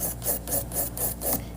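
Nail file rasping back and forth across gel nail tips during a manicure, close and steady in about six even strokes, with no talking.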